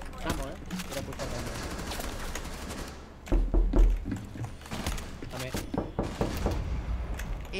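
Gunfire in Rainbow Six Siege during a shotgun-only match, with bursts of shots and mechanical clatter under frequent talk from the players.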